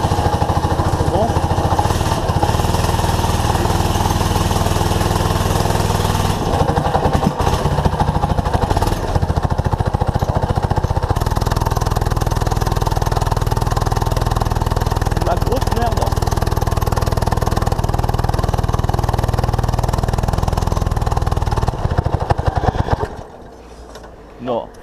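A homemade mini buggy engine running on E85 fuel strains under load with a loud, continuous buzzing drone and rough rattle that barely changes, then cuts off abruptly near the end, with voices talking over it.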